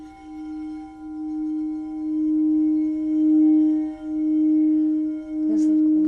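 A singing bowl rings with a sustained pure tone and steady harmonics, swelling in a slow, gentle pulsation; near the end a brief brighter strike or clink enters over the hum.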